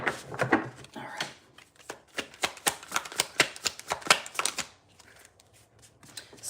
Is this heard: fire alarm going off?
no